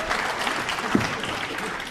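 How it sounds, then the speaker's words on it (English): An audience applauds steadily through a 9-ball pool semifinal at the 2002 World 9-Ball Championship, with dense, even clapping that fills the hall throughout. "Round of applause, but I'm not too sure why"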